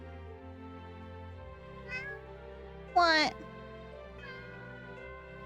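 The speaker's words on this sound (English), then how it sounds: "Why are you meowing?" A pet cat meows indoors, a short soft mew followed by a louder drawn-out meow and a fainter third call, with a person speaking briefly nearby.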